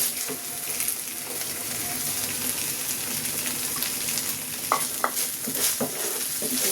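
Ginger-garlic paste and green chilli frying in a pan for a koi fish curry, a steady close sizzle running throughout with stirring scrapes and a few sharper clinks near the end, no voices.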